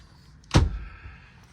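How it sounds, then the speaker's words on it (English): Door closing somewhere inside a 1992 Holiday Rambler Imperial 34-foot motorhome, a single dull thud at moderate distance with a short rumbling tail, set in a quiet room. "somebody's closing the door on me over there"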